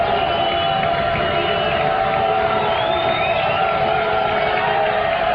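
A college football stadium crowd at Colorado Mines vs CSU-Pueblo keeps up a loud, sustained roar of cheering and whoops, steady throughout without a break.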